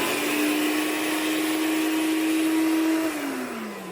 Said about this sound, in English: You know it's on, not just because the sound it's making and you're seeing the blender going, but the blades going